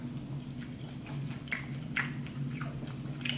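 Close, soft chewing of a bite of vegan shrimp from a Slutty Vegan restaurant in Atlanta, with a few moist crunchy bites standing out over steady low room hum.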